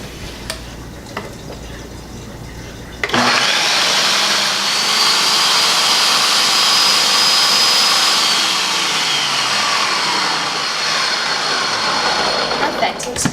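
A food processor blends garlic and kale pesto, starting abruptly into a loud, steady whirring roar that runs close and continuous after a brief quiet lead-in with faint talk.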